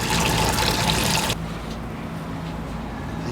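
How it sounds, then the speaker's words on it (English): Water gushes and splashes out of soaked Wiggy's sleeping-bag insulation at the Wiggy's factory, a steady loud pour for over a second that abruptly cuts to a faint trickle and drip. "Now you can see the water is just running out."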